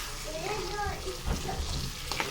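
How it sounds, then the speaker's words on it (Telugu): Tamarind juice is poured into a pan of hot tempering for pulihora and stirred. A dense sizzling wash follows with some stirring scrapes, and faint voice-like sounds sit underneath. "ఆ చింతపండు పులుసుది ఇందులో పోసేసుకోవాలి. పోసుకొని బాగా కలుపుకోవాలి."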